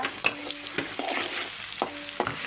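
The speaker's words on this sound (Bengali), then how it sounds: "পেঁয়াজ ভাজা ভাজা হয়ে গিয়েছে" Onions fry in oil with whole spices such as cinnamon, cardamom, peppercorns and bay leaf, a close sizzle broken by repeated spoon scrapes and stirring knocks against the pan.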